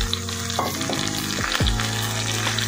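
Green lobia bean pods hit hot oil in a pan and sizzle loudly and steadily. Stirring scrapes and clatters a few times over the frying, with no voices.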